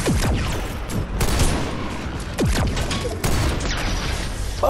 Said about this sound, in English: I'm gonna throw in a grenade